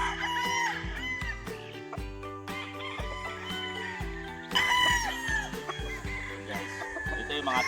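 Rooster crowing nearby over a backdrop of clucking chickens, with music playing underneath.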